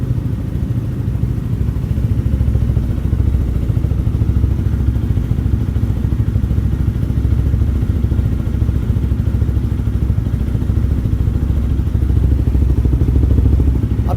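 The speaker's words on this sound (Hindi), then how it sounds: "अभी ये बाइक कोल्ड स्टार्ट हो रही है, आप इसका आवाज़ नोटिस करिए दूर से।" A Jawa 42 FJ 2024 motorcycle engine idling steadily after a cold start, with a low, even throb and mechanical clatter, continuous throughout without talk.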